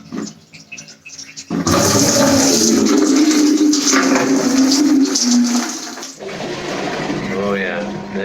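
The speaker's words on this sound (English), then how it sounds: "It's the big flush button." A newly installed toilet in Spain gives a big flush, a sudden loud rush of water that roars for several seconds before easing into a quieter refill trickle, with a voice talking over it.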